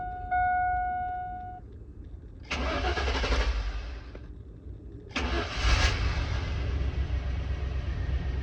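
An LS engine in a single cab truck gets its first start: a chime, then two bursts of starter cranking, the second catching into a low steady idle, close and fairly loud with no talk.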